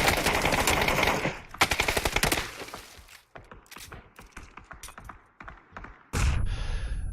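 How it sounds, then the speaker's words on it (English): Gunshots in PUBG during a competitive practice scrim: a dense burst of rapid fire, then scattered sharp cracks and single shots, ending in a loud sustained noise. "Lemon Drop taking a few shots there, but none of them seem to land."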